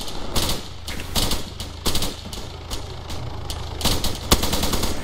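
Rapid bursts of automatic gunfire in a simulated air raid game, loud and close, firing in repeated short volleys with brief gaps between them over a steady low rumble.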